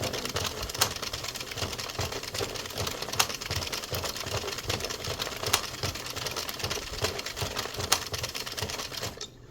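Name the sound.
Addi 22 knitting machine cranking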